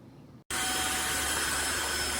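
A Tineco iFLOOR 3 Breeze cordless wet dry vacuum floor cleaner switches on after a brief gap and runs with a loud, steady whine and airy roar close by.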